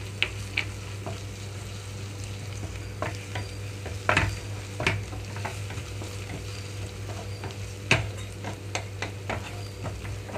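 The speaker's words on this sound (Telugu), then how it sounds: "ఇప్పుడు ఇందులోకి అల్లం వెల్లుల్లి పేస్ట్ వేసుకుంటున్నాను" Ginger garlic paste fries with browned onions in a pan, giving a steady low sizzle under a constant hum. Occasional sharp spatula ticks and scrapes come through close by.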